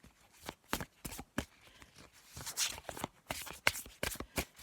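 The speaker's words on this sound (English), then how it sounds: "I'll just take them off of here and shuffle them" Tarot of the Heart cards are shuffled by hand in a series of quick, crisp riffling bursts with short pauses between, close and fairly soft, with no talking.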